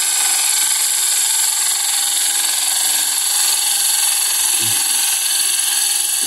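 A lathe spins an end-grain wooden bowl while a tool shear-scrapes its inside, giving a steady, loud high-pitched hiss and whine that runs unbroken throughout, with no talk.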